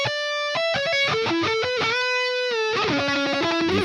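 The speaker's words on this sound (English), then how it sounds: "the distortion and the chorus" A synth melody run through distortion and chorus plugin effects, gritty and harmonically rich, widened in stereo, a short phrase of sustained and stepping notes with no voice.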